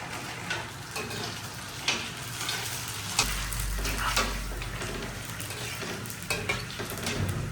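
Puri frying in hot oil, a continuous close sizzle broken by occasional ladle stirs and light clinks against the pan, with no talking.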